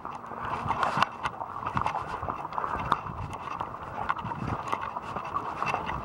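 Horse hooves clip-clop steadily on hard ground, close by, with a rapid uneven rhythm and faint background noise.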